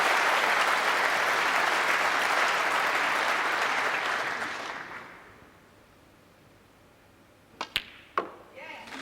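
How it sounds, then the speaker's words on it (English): Crowd at a snooker final in the Welsh Open applauds frame ball, a loud sustained wash of clapping that fades away around the midpoint, leaving near quiet broken by a few sharp knocks and clicks. "The crowd acknowledge frame ball."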